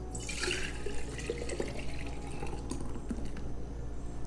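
Fresh juice is poured off into a glass, a steady, close liquid splash and trickle that runs continuously with no speech.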